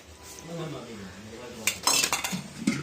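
A metal lid set over a pot of chicken biryani, a few sharp clanks and scrapes of metal on metal close by after a low murmur of room noise.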